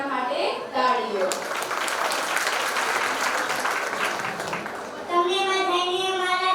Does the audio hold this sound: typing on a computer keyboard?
no